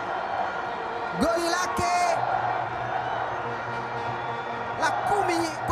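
Football fans cheer and whoop in a stadium after a goal in a women's match between Simba Queens and Yanga Princess, the crowd roar steady beneath a commentator's continuous talk.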